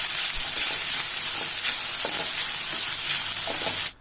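Grated coconut fries with spices in a pan at medium heat for a prawn curry, giving a steady, loud, close sizzle with faint stirring scrapes and no voices, ending abruptly.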